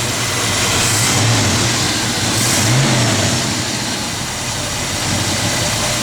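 A 1966 Chevrolet C10 pickup truck's engine runs close by at a steady idle. It gives a loud low rumble and is revved briefly twice, the pitch swelling each time before settling back.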